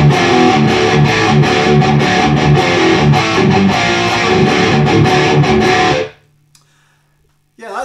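Heavily distorted electric guitar played through a Joyo Dark Flame distortion pedal, loud rhythmic chugging riffs for about six seconds, then cut off to near silence with a faint hum before a brief burst returns.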